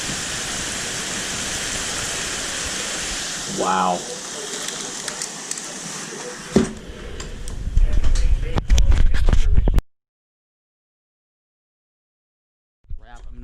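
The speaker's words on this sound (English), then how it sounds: "You can see it on the roof. I've never seen hail in real life before" Hail pelting a roof during a June thunderstorm, a loud, dense rattling roar that swells and clatters heavily, with a brief exclaiming voice partway through, then cuts to silence.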